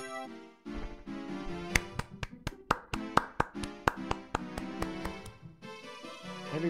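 About a dozen sharp hand claps come in a quick, steady rhythm over soft background music, loud and close.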